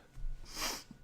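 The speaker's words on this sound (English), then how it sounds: "I'm about to sneeze." A single close sneeze from one person, a brief breathy intake followed by a sharp burst of air, with a short snort-like tail right after it.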